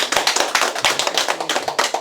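Audience clapping at a Korean tea talk and gallery workshop event, a quick run of fairly close, crisp claps with a brisk uneven rhythm, loud and without voices.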